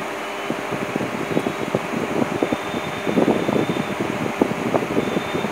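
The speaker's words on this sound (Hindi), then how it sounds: "फ़ैन का जो आवाज़ है यहाँ पर बहुत ज़्यादा आ रहा है" A running electric fan picked up through a phone microphone, producing a steady whooshing hiss with a soft fluttering rumble, close and continuous with no talk.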